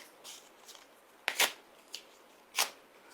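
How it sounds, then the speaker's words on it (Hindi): Paper expulsion notice torn up by hand in front of a camera, several sharp ripping bursts spaced unevenly over a few seconds, close and fairly loud against a quiet background. "ये मेरे निष्कासन का नोटिस जो मुझे दिया गया है, ठीक उसी तरह कैमरे के सामने फाड़ रहा हूं"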